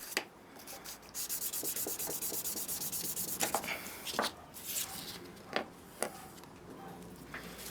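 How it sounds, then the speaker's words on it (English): Abrasive paper rubs steadily over a turned piece, working up to 2000 grit, producing a soft, continuous close-up scratching hiss broken by a few faint taps. "Using abrasive paper, I work all my way down to 2000 grit."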